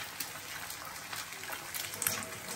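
Tap water running steadily into a kitchen sink while hands are washed, a soft continuous splashing with small irregular bursts, no talk.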